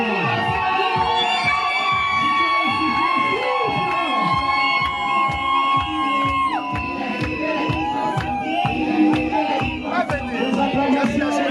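Guests at a civil wedding cheer and shout for joy, a loud mass of whoops and high cries with whistles on top, rising in bursts over steady rhythmic thumping, close and lively throughout.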